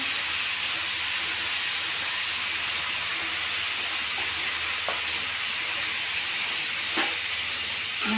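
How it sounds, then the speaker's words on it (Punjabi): Tomatoes and lightly browned onions sizzling in a hot pan, a steady loud frying hiss with a couple of brief stirring clicks, no voices. "ਪਿਆਜ਼ ਵੀ ਆਪਾਂ ਥੋੜੇ ਜਿਹੇ ਹਲਕੇ ਜਿਹੇ ਬਰਾਊਨ ਹੋ ਗਏ ਆ ਹਾਂਜੀ ਤੇ ਹੁਣ ਵਿੱਚ ਪਾਵਾਂਗੇ ਟਮਾਟਰ"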